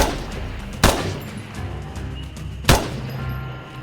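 In the video game Incursion Red River, two loud, sharp rifle shots crack about two seconds apart, each followed by a short echoing tail over steady background ambience.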